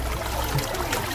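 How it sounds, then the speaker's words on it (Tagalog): Cold spring water at Mangganis Bugwak flowing strongly, a dense continuous rushing wash close by with no pauses over the brief moment. "Kusog iyang gawa sa tubig."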